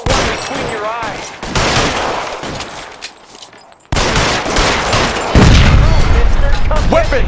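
Dense bursts of gunfire during a shootout in the 1940s Los Angeles crime game L.A. Noire, loud rapid volleys with a brief lull, then heavier booming shots, mixed with shouting voices.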